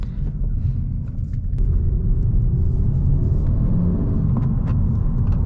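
A tuned 2020 Honda Civic Si (10th gen) engine running close by, a loud, steady low rumble that swells slightly as it revs, with no voices.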